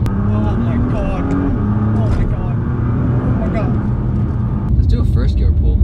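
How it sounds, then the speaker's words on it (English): A Nissan GTR accelerates hard in first gear, its engine a loud, rising roar heard from inside the car, with people talking and exclaiming over it the whole time. "First gear pull. Now the first gear pulls"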